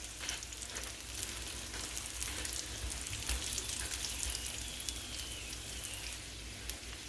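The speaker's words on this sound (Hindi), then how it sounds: "तो यहाँ पे पराठा जो है वो अच्छे से कुक हो रहा है।" A paneer, onion and cheese paratha fries on a pan over medium-high heat, giving a steady, even sizzle and faint crackle that holds at moderate level throughout, with no talking.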